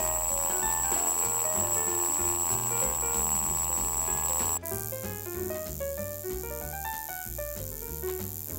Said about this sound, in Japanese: それでは実際のアラームの音色をお聞きください。